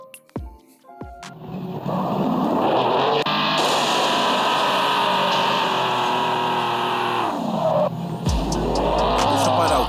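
A Honda S2000 in a racing video game revs and accelerates, then its tires squeal in a long sustained skid before the engine drops and revs again; loud and close with no talking.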